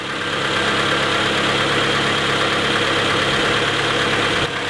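A Honda Civic hatchback engine idles steadily and fairly quietly, a continuous even hum with a broad mechanical rumble throughout, heard alone with no talking.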